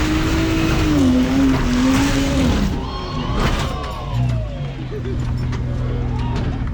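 A Jeep climbing an off-road obstacle at a club wheeling competition, its engine loud and revving hard, then falling and rising again as the rig strains upward, with people talking and shouting nearby.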